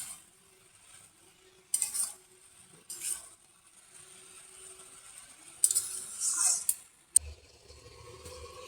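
Bottle gourd with slit green chillies is stirred in a pan for a lao chingri dish, giving soft intermittent scraping strokes and faint sizzling close by. A sharp clank is followed by a low rumbling clatter near the end.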